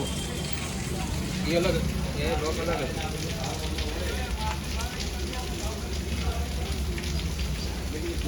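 Steady rain patters down in a monsoon shower while a man works on making a key nearby, a continuous hiss of falling drops under people talking.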